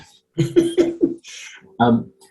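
Several harsh coughs come in a quick rapid run, followed by a breathy rasp and one more cough, close by and loud.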